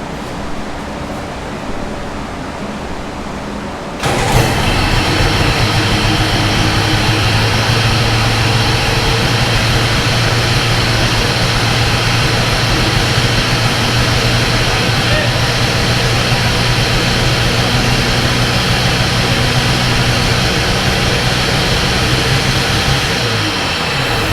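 A Sea-Doo XP Limited jet ski's 951 Rotax engine, under repair, fires up after a few seconds of quiet handling and then runs loud and steady with a rough, hissing roar close by until the end.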